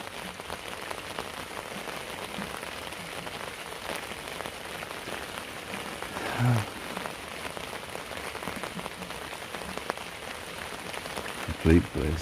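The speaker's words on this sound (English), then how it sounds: "Lovely, that lovely gentle pitter patter on the tarp." Gentle rain patters steadily on a tarp strung over a hammock in winter woodland at night, a continuous close pitter-patter with a couple of brief louder rustles.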